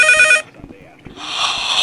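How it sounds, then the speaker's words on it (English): Telephone in a Silent Hill video game ringing loudly and close, one electronic bell burst, a short gap, then the ring starting again, with a voice briefly heard in between. "Yes, finally the phone!"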